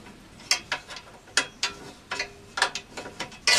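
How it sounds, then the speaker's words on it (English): Bolts being undone with a ratchet on the side table of a Dewalt DW733 planer, a close series of sharp, quick clicking strokes in uneven bursts, with no talking. "You just have to undo these bolts here."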